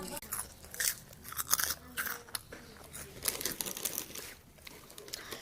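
Crunchy chips are bitten and chewed close up in irregular bursts of crisp crunching, with packet crinkling and short quiet gaps between bites.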